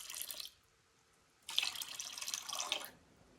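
Water poured from a tap into a container sitting on a kitchen scale while mixing sourdough. A short splash is followed by a pause, then a longer, steady pour lasting about a second and a half, heard alone.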